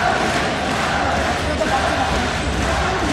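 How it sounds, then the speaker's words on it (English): A dense arena crowd at an MMA event chants for a fighter, a loud, continuous roar of voices filling the hall. "the crowd in here chanting for Ismagulov"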